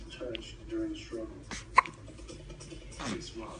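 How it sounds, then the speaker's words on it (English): A single short, sharp hiccup stands out in the middle, surrounded by soft, low voices talking quietly. "That's a hiccup"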